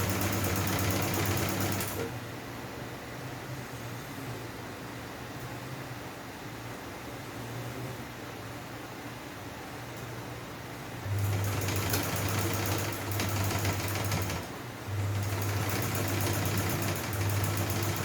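A sewing machine hums close and steady as it stitches a satin-lined Ankara turban, with a continuous run and brief pauses near the start and end.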